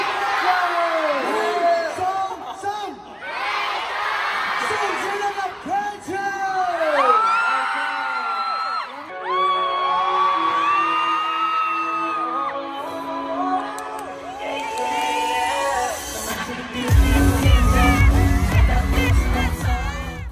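Crowd at a concert cheering, whooping and yelling, loud and continuous, with voices rising in bursts and a heavy low rumble near the end.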